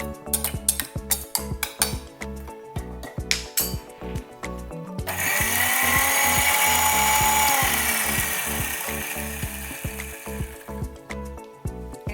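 Banana stem juice with ginger and cumin is ground in a mixer grinder jar, the motor kicking in after some clattering and holding a loud, even whir for several seconds before cutting out.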